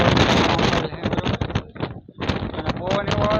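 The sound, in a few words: wind blowing on the phone microphone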